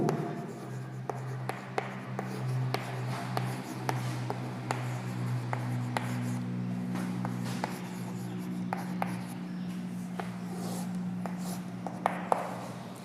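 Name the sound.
writing the definition of gravitational force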